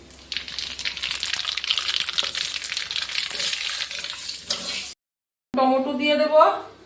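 Nigella seeds crackle and sizzle in hot oil, a loud steady frying hiss with small pops that runs for several seconds, breaks off briefly, then a voice speaks over renewed sizzling.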